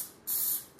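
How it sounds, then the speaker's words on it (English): Cooking spray hisses into a bowl in two bursts, a long one and then the start of a short second, bright and fairly close, ahead of shaping sourdough discard bagel dough. "I'm gonna spray my bowl with some"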